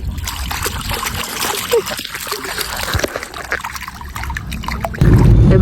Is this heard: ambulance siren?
no